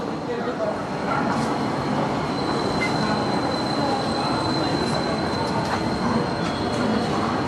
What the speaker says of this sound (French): Vous allez voir la gare là.